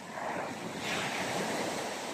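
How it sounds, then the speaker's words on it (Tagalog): Sea waves wash steadily onto the shore, a broad continuous surf roar with some wind noise on the microphone and no voices. "Ito ang dagat, oh. Tabi ng dagat."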